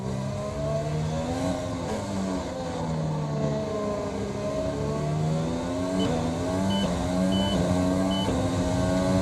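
Formula 1 race car engines from the F1 2020 racing game at Silverstone's British Grand Prix, a sustained high-pitched whine with steady gear shifts and rising, falling revs, loud and continuous without voices.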